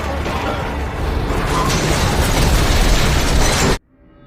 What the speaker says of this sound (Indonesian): membiarkan truk tersebut menabrak dan kemudian meledak